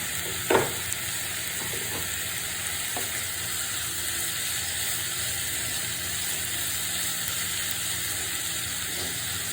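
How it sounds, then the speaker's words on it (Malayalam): Ginger pieces frying in hot oil for a pickle, a steady broadband sizzle running throughout with a few faint scraping knocks near the start. "എണ്ണയും കൂടെ ഒഴിച്ച് കൊടുക്കണം കേട്ടോ, കുഴപ്പമില്ല. നല്ലപോലെ വറക്കി എടുക്കണമല്ലോ, അപ്പം എണ്ണ വേണം."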